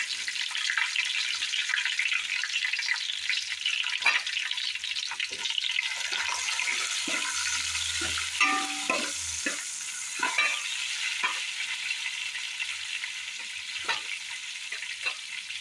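Shallots frying in a pan for Kerala-style chicken roast, a steady bright sizzle throughout with occasional soft stirring scrapes, close and continuous with no talking.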